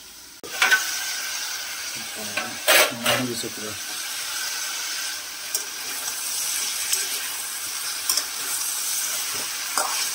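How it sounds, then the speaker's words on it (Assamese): Chicken pieces sizzle in hot oil in a pan for an Assamese chicken dish, with a steady frying hiss throughout and a few loud scraping stirs of a spatula in the first few seconds. "অলপ ফ্ৰাই কৰি লৈছোঁ, তাৰপিছত হালধি দিম, নিমখ দিম, মছলা দি দিম লগতে।"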